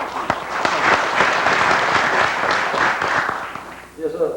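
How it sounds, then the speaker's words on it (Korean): Applause from the audience at a book launch ceremony for a study of Wolnam Lee Sang-jae, a steady wash of clapping that holds for several seconds before tapering off, with a voice barely audible beneath it. "박수 한번 받으셔야"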